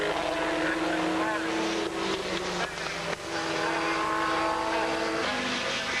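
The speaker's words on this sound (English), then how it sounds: "here comes the Lotus Elan in third place of number 27" Lotus Elan and Lotus Europa race cars pass on a circuit during a club motorsport race, their engines a steady, loud drone with a slight rise and fall as they go by, while a commentator talks over them.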